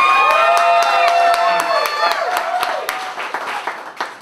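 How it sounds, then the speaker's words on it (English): Wedding guests break into loud, close applause with cheers and whoops, a dense burst of clapping that gradually thins out over a few seconds. "Can we get a round of applause?"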